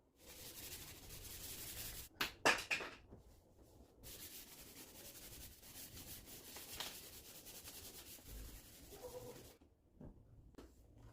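Hand sanding of burnt car paint with 400 grit sandpaper, a steady soft scratchy rubbing that runs almost throughout at low level, with a few brief louder scrapes early on and a short pause near the end.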